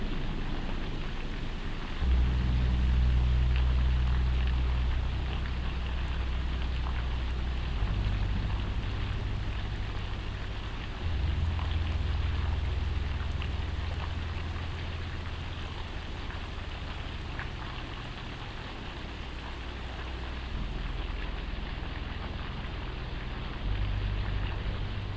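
Steady rain with low rumbling swells, like cold, putrescent acid rain falling on an alien world, continuous and moderately loud with no voices.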